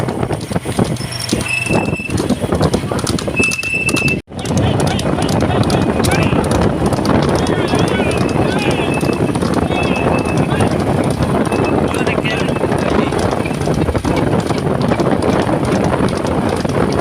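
A fast racehorse gallops with steady, rapid hoofbeats on hard ground, loud and close, mixed with wind buffeting the microphone and traffic-like background rumble, with a brief dropout partway through.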